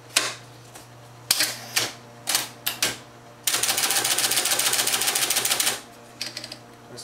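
Typing test on an IBM Selectric electric typewriter: a few scattered sharp key strikes, then a long rapid burst of steady clacking for about two seconds, closing with a few more taps, close up and loud over a faint hum.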